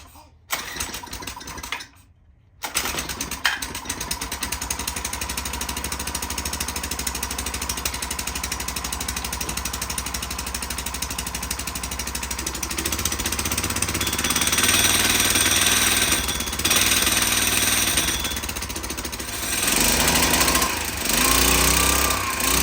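A two-man earth auger's small engine, dosed with starting fluid, catches and runs with a loud, steady, rough drone. It surges higher in bursts toward the end, after a short gap near the start.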